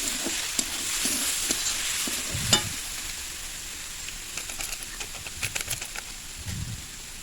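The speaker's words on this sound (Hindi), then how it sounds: "मैं ज़्यादा बना रही हूँ इसलिए मैं 2 पैकेट मसाला डाल देती हूँ।" Two packets of masala spice mix are stirred into frying vegetables for a veg momos filling. A soft, continuous sizzle sits under irregular scraping strokes of a spoon in the pan, close and fairly quiet, with no talking.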